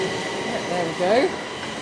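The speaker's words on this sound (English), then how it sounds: "As that train leaves" A London Underground train rumbles out of a station in Acton with a few faint wheel squeals, steady and fairly loud, fading slightly at the end.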